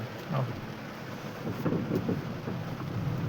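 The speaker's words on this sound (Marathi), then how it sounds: "सकाळपासून इतका पाऊस चालू आहे" Heavy rain falls steadily as a dense, continuous wash beside a muddy road near a school, with low rumbling underneath and no talking.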